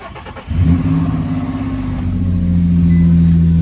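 A Nissan VQ40 engine fitted with a CJD Racing electric fan kit and a Flowmaster Super 44 exhaust cranks and fires, then settles into a loud, steady, close idle hum that stays constant to the end, with no voices.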